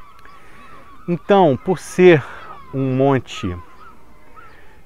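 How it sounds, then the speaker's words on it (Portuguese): Seagulls calling near a tall coastal rock, a few loud, harsh squawking cries in short bursts, close by, alternating with a man's speech. "Olha as gaivotas, que são gostoso, né? Bonito de ouvir."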